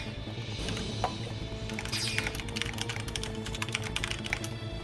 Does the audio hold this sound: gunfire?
no